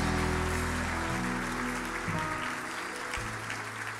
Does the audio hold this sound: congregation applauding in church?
yes